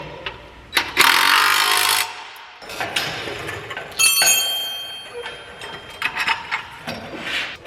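Impact wrench loosening 9/16 bolts, with loud short bursts of rattling hammering, separated by pauses and metallic clinks of tools, close up in a workshop.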